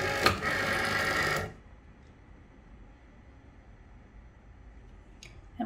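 A Cricut cutting machine with a fine tip loaded whirs briefly with a mechanical hum during its first second and a half, then cuts off, leaving quiet room tone and a faint click near the end.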